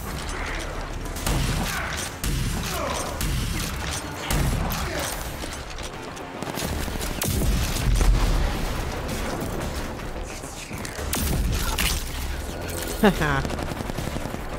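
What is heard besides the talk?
shotgun firing in the video game RAGE 2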